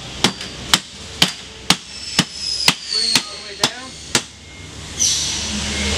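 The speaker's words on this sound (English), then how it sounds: "we like to use a block of wood, a rubber mallet" Rubber mallet tapping trim set on a block of wood, about nine sharp, evenly spaced knocks, close and clear, followed by a brief scraping sound.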